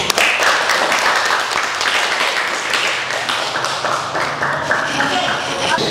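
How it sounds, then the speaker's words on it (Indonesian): Applause in a school classroom for a student, a steady wash of clapping from the group lasting several seconds, close and dense with taps and thuds mixed in. "kita beri aplaus dulu dong untuk Dinda"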